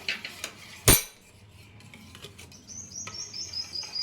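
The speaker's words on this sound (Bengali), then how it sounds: "এবারে আমি একটু নেড়ে দিচ্ছি ভালো করে" A spoon stirs milk and cardamom seeds in a pot for sweet curd, opening with a sharp metallic clank against the rim, then softer scrapes and light clinks, with a faint high chirping in the background.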